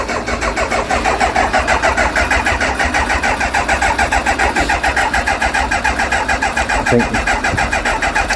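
A long-neglected Kawasaki ZX motorcycle, a garage find with clogged carburettors, cranks over in a fast, loud, rhythmic churning on the starter without firing, sustained close up with no talking.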